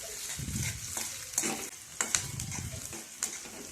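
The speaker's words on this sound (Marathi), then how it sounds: "जे दोन मोठे कांदे आपण बारीक चिरून घेतले होते ते टाकून घ्यायचे आहे आता याला थोडे परतून घ्यायचे आहे" Two large onions, finely chopped, sauté in hot oil in a wok after a mustard-seed tempering. A soft, low sizzle runs under repeated scrapes and clinks of a stirring spoon.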